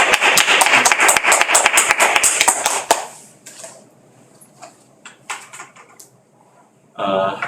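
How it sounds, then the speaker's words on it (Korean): An audience at a church seminar applauds with dense, lively clapping that fades after a few seconds into scattered claps and room noise, then a voice begins speaking. "이제 목사님 나오실 때 저희가 박수로 환영을 하겠습니다."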